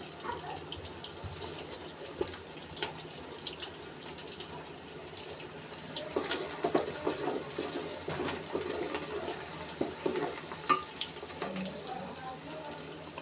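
Five-spice seeds hit hot oil in a pan for a beef curry, a steady rushing hiss that swells louder midway with faint crackles. No one speaks.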